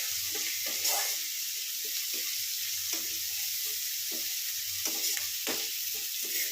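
Chicken Manchurian ingredients frying over high heat in a pan: a steady, loud sizzling hiss throughout, broken by repeated scraping strokes of a spatula, with no voices.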